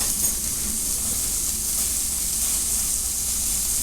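Sirloin steak sizzles steadily in a hot pan, a continuous close, loud frying hiss with no breaks or talk.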